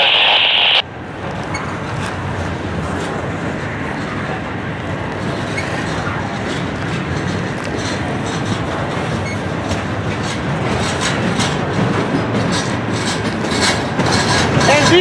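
A Norfolk Southern freight train led by locomotive NS 4055 rolls past at night, a loud continuous rumble with rhythmic clickety-clack of wheels that builds slightly over fifteen seconds.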